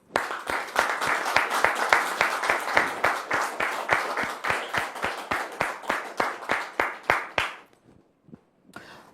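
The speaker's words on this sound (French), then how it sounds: "Merci de recevoir maintenant la sœur Aurélie sous vos applaudissements, s'il vous plaît" Audience welcoming a guest on stage with loud, even, rhythmic clapping in unison that stops abruptly, followed by a few faint stray claps.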